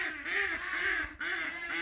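A duck, the bird raised for Southwest French cuisine, quacks in a run of rapid nasal calls, near and fairly loud, with a brief pause before another burst.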